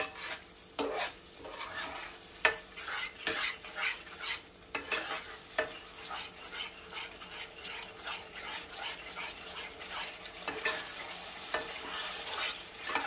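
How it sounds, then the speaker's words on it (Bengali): A spoon stirs mushrooms sautéing in a pan for a no-garlic, no-onion vegetarian dish, scraping and tapping in irregular bursts over a soft steady sizzle, close and fairly quiet. "আবার একটু ভালো করে কষিয়ে নেব।"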